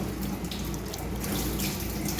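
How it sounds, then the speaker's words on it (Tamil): Basmati rice is rinsed under running water for mutton biryani, a close, steady splash and gush of water with no talking over it. "ஸோ நம்ம இப்போ அரிசியாக கழுவிக்கிறோம்"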